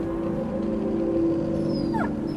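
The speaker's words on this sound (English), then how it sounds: "The dog whimpered in fear and leaned into her." A frightened dog whimpers as a story sound effect, a soft, steady whine with a brief rising yelp-like squeal near the end. No one speaks.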